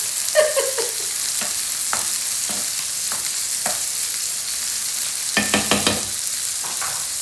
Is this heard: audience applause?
no